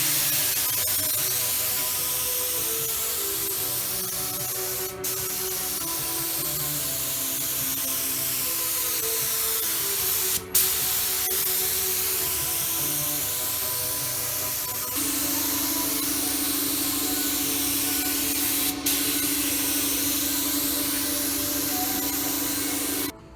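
A paint spray gun sprays a car body panel, giving a loud, steady hiss that runs almost without a break, with a few short pauses and clicks as the trigger is released and pulled again.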